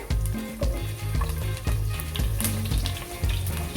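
Ginger frying in hot oil in a pot, a loud, dense, continuous sizzle with crackling and occasional knocks of a utensil against the pot, no voices.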